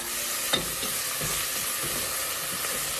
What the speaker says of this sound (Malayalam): ഇത് നന്നായിട്ടൊന്ന് ഇളക്കി കൊടുക്കുക